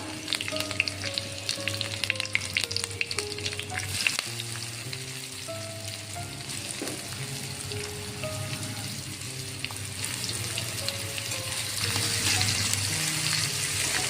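Chopped onion with green chilli sautés in an oil-filled pan for garlic methi, a steady sizzle lasting throughout with occasional stirring scrapes, loud and close, while music plays beneath.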